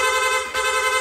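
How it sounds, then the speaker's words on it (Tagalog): Loud, blaring PIAA rapid horn on a Yamaha Aerox motorcycle sounding continuously up close, with a brief dip midway as it repeats in rapid succession. "Nag-install din tayo ng rapid horn."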